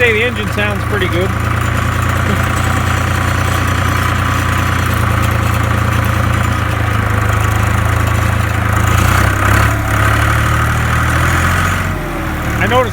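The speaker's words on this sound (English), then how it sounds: "Gotta say the engine sounds pretty good." A Case IH 395 tractor engine runs steadily with a low, even rumble throughout, and people talk over it.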